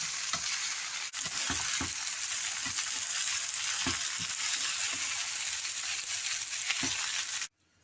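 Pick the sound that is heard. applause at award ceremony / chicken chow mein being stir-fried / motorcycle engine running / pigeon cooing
chicken chow mein being stir-fried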